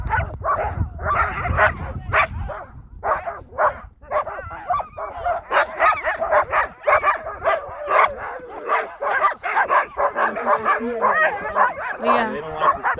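Sled dogs on a dog sledding run in Skagway, Alaska, barking and whimpering excitedly in a steady, close chorus throughout, with people talking over them.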